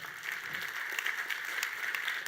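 A small audience claps for a participant during a business strategy workshop, a steady moderate patter of hands throughout the brief moment.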